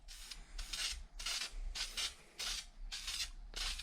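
Repeated short bursts of hissing from a spray paint can painting a PS4 controller, about seven on-off pulses in a steady rhythm, close and fairly loud.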